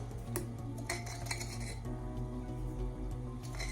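Light metallic clinks and scrapes of a spoon scooping sugar into a container, repeated several times at close range with no talking.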